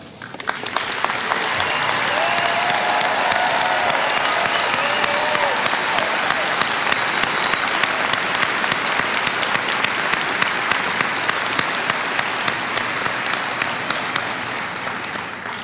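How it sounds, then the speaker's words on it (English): Loud, sustained applause and roaring from a university commencement audience, staff rising to be recognized, a dense wash of clapping that swells quickly and holds steady for about fifteen seconds. "students, please give them a resounding roar of applause, as well as the audience"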